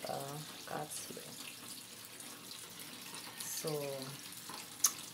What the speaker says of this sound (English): this is the hose where the water my god, where the water flows